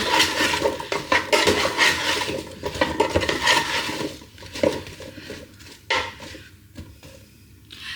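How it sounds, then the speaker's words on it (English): Vegetables with basil and mixed herbs are stirred in a Ninja Speedi pot, a spoon scraping and clattering against the pot in a steady, close run of loud strokes that thin out toward the end. "give it a good stir"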